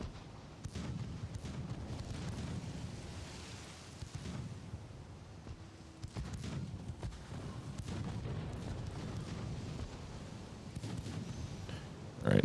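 Naval gunfire from battleships in the Ultimate Admiral: Dreadnoughts game, a steady stream of low rumbling booms and cannon blasts rolling through the whole stretch, with one sharper burst at the very end.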